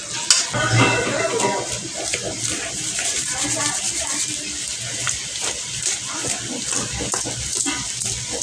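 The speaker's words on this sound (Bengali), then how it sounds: "এই যে চিনি দিয়ে মেখে নেবো, খেয়ে নেবো।" Half-ripe mango pieces are rubbed and mashed together with sugar by hand, a steady close wet squishing and rubbing texture that runs continuously, with some voice in the background.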